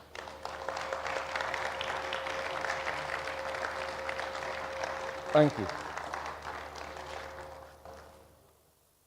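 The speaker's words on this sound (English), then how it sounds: "can we give them a round of applause?" Audience applause at a business conference in Lagos, a dense steady wash of many hands clapping that fades out toward the end, with a brief spoken thanks partway through.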